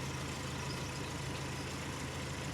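A 51-year-old Land Rover engine idles close by, a steady low rumble with a constant hum that holds even and unbroken throughout, with no voices over it.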